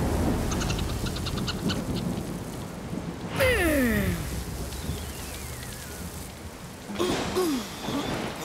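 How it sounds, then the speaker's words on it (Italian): Cartoon thunderstorm with steady rain hiss throughout, broken by two loud rumbling thunder cracks near the middle and near the end; a voice speaks briefly early on. "Il mio temporale ha fatto il suo dovere!"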